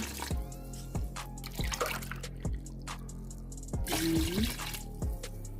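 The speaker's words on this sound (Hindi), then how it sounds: "अब हम इसमें पानी ऐड करने लगे हैं" Several brief pours of water from glasses splash into a pot of rice for pulao one after another, with a dripping, sloshing sound over a low background hum.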